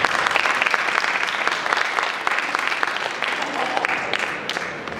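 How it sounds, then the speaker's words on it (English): A crowd at a student presidential candidates' debate, tied to UBC, gives a round of applause. The clapping is loud, dense and sustained for the whole five seconds, with faint crowd murmur underneath. "let's just give them a round of applause here"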